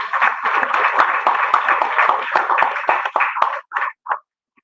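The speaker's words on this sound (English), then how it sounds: "Let's give them a big round of applause" Audience at a Jamaica investment lecture gives a dense round of applause that runs steadily for about three seconds, then thins out into a few last scattered claps.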